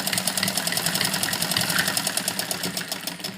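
A sewing machine stitching a heavy-size suit runs in a fast, even mechanical rattle, close and continuous, with no talking.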